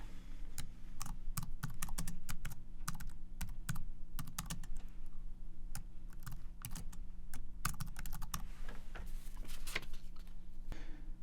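Steady, close typing on a computer keyboard as an activity name is entered. Quick clicking keystrokes fall in irregular bursts over a low constant hum, with no voice.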